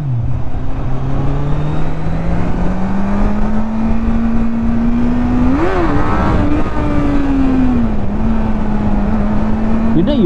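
A superbike engine revs hard and steadily throughout while the rider pulls a wheelie, the pitch rising and dipping near the microphone, with people talking over it.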